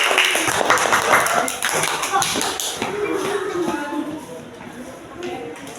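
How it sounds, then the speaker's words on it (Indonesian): Students in a classroom clap for group 2, loose, uneven hand claps and shuffling that start strong and fade, with a voice talking over them. "Beri tepuk tangan, beri tepuk tangan untuk kelompok 2."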